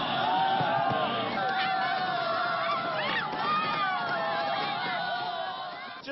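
A joyful crowd fills a square in Beijing with a dense, sustained roar of cheering and shouting voices, steady and loud throughout with no pauses.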